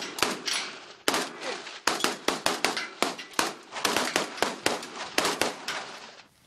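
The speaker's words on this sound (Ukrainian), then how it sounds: "Стрільба виконується одиночними." Sharp single rifle shots at a shooting range crack out one at a time in an uneven, rapid series, about twenty reports over several seconds, loud and close with short echoing tails.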